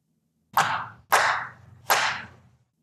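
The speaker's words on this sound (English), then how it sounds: "Tom was getting slapped in the face." Three sharp slaps to the face ring out as an audiobook sound effect, each a crisp smack with a short decaying tail, spaced unevenly about half a second to a second apart, loud and isolated.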